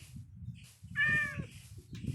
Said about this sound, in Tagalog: Ang daming pusa dito Ang cute.